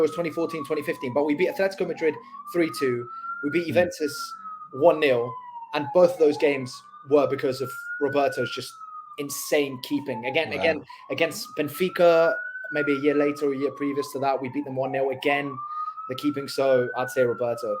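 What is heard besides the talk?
police sirens on New York City streets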